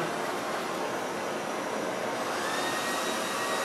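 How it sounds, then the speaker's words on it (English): A loud, steady blowing whoosh of a hairdryer running continuously at close range, with no talking. "get the hairdryer going, hang it on here"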